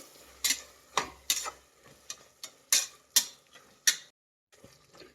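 Tomatoes and turmeric being stirred in a cooking pan: about eight sharp, irregular scraping strokes of a utensil against the pan, close by, over a faint sizzle, with a short pause near the end.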